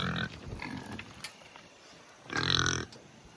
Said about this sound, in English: Oh, it's a pig.